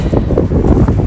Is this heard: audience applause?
no